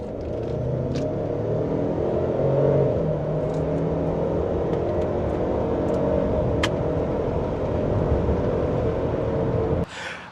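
A 2023 Ford Explorer accelerates with a steady, loud engine and road roar that holds evenly for about ten seconds before easing off at the end, with no talking.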